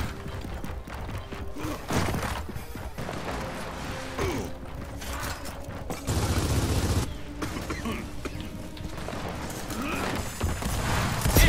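Gunfire from the video game Gears of War 4 in a doubles match, bursts of rapid shots and mechanical clatter running throughout, with players talking over it.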